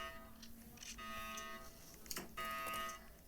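A harsh electronic alarm buzzer in Roblox Brookhaven blares in repeated bursts, steady tones cutting in and out, with a brief sweeping chirp in between.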